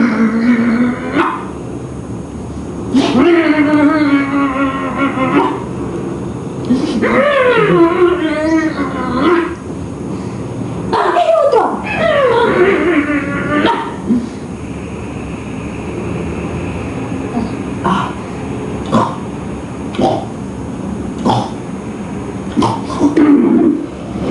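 A voice imitates a dog barking in a series of loud, close, tonal bark and yelp sounds, bunched in bursts with short pauses, followed by quieter scattered sounds.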